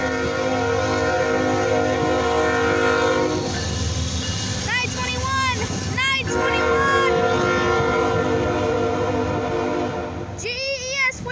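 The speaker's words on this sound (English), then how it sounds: "Blow the freaking horn" A CSX freight train rumbles past up close and loud, its horn blaring in several long blasts midway and again near the end over continuous rail noise.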